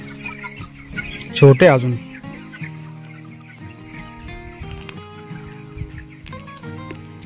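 Chickens cluck and squawk in a poultry shed, with a loud burst of agitated calls early on, then steadier clucking alongside a brief spoken voice.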